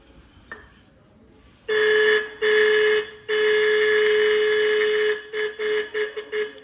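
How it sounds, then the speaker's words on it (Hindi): An old Royal Enfield Bullet motorcycle's faulty horn blares loud and close in harsh, buzzy bursts: one long blast, a short gap, another sustained blast, then a quick run of stuttering short honks as it cuts in and out. "हॉर्न ख़राब हो चुका है"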